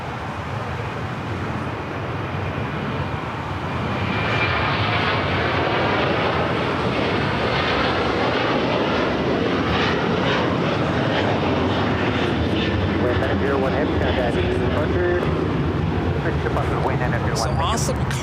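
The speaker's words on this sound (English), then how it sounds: "Awesome Cargo now rolling down. It's an A330-200." An Awesome Cargo Airbus A330-200 cargo jet rolls down the runway at LAX, its engine roar building loudly within the first few seconds and holding as a steady, broad rumble to the end.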